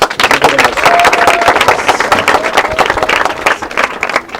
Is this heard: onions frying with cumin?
no